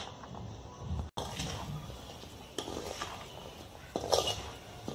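Raw jackfruit pickle being mixed with salt and turmeric: soft, continuous scraping and rustling of pieces in a vessel, close and fairly quiet, with a brief dropout near the start and a few louder clinks toward the end.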